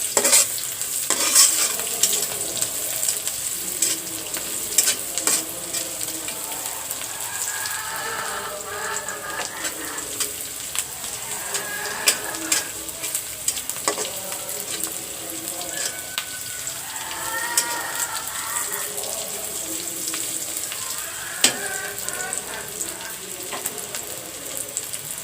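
Dried chilies, green chilies and crushed garlic frying in oil for a masoor dal with jute leaves, with a steady close sizzle, crackling pops and stirring scrapes running through, no talking.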